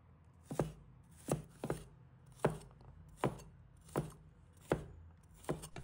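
Knife chopping garlic cloves into small pieces on a cutting board, eight crisp, evenly paced knocks roughly every half to three-quarters of a second, close and clear with quiet gaps between strokes.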